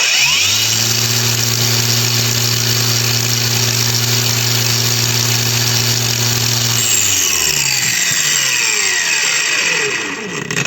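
A DRIVAK AG001 cordless angle grinder runs steadily at full speed with a loud, even motor whine, then winds down with a falling pitch near the end.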